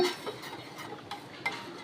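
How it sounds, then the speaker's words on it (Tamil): A spoon scrapes and taps against a pot while dissolving sugar into water, a few light, irregular strokes, soft and close, with no talking. "சீனியை நல்லா கரைச்சி விட்டுக்கோங்க"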